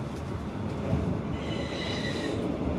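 Inside an RB22 regional train riding through the Lahn valley towards Limburg, a steady broadband rumble of wheels and car noise holds throughout, with a faint higher whine rising midway; no talking.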